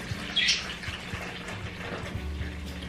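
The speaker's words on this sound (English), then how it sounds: "Pour the water into your bowl." Water pours into a bowl for bottom-watering a potted plant, a soft trickling and splashing that runs steadily at close range with a faint higher chirp early on.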